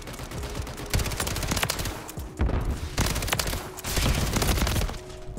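Rapid automatic gunfire from the FJX Horus in Call of Duty: Modern Warfare III, loud sustained bursts of shots with brief gaps between them and a steady game soundscape behind, no talking.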